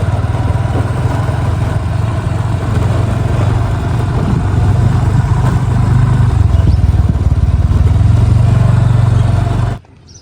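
Motorbike engine idling steadily in a theme park parking lot, loud and close with a constant low rumble for about ten seconds before cutting off abruptly.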